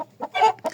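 Chickens and roosters cluck in a short burst of several close calls, heard alone.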